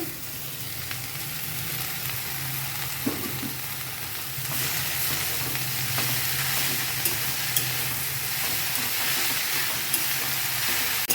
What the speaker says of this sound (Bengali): শাক দিয়ে একটু ভেজে নিলাম।